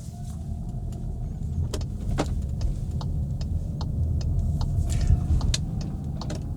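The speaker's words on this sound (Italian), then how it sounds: "Avviamo dal tasto preposto all'accensione, selettore in drive e via." A Cupra Terramar plug-in hybrid with DSG gearbox pulls away, a low steady cabin rumble of road and drivetrain with scattered small clicks and ticks, no loud engine note.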